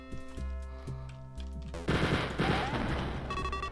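Bursts of gunfire in the video game Wolfenstein 3D, with loud rapid shots breaking in partway through after a stretch of tonal game music, then continuing as dense repeated fire.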